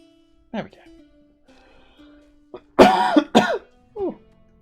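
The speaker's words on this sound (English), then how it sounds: "Me coughing away." A man coughs several times up close, sharp harsh bursts with a throat-clearing sound between them, and brief muttered speech around the coughs.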